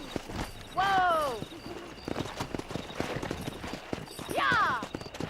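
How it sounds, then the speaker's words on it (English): Horse hooves clip-clop in the Western video game Red Dead Redemption, a quick run of close hoof beats with two loud neighs breaking through. "Let's see if we can't wrangle some horses."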